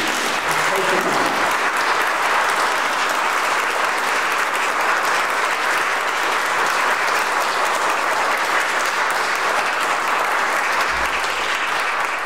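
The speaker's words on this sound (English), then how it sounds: "give them a round of applause, please" Sustained, loud audience applause fills the hall after a musical performance, a dense wash of clapping that carries on steadily from start to finish.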